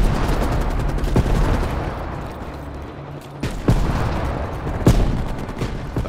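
Gunfire rattles in the Call of Duty Black Ops Cold War campaign, set in Vietnam, with sustained loud bursts of automatic fire and a few sharp, heavier shots standing out against a rumbling battle background.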